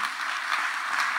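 A church congregation at a wedding service breaks into a short, even burst of applause, a steady wash of clapping heard from within the room with no voices over it.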